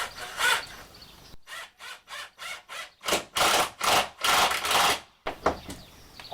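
Screws are driven into wooden furring strips on a van ceiling with a drill, giving a run of short rhythmic whirring bursts and then longer sustained runs, loud and close, with no talking.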